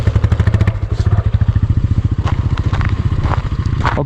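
Motorcycle engine revving hard in close, rapid rhythmic bursts on a snowy mountain ride, loud and continuous with clattering mechanical knocks throughout.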